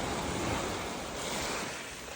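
Sea waves wash onto a beach in a steady, close hiss of surf with some wind noise on the microphone, continuous and fairly soft, with no voices.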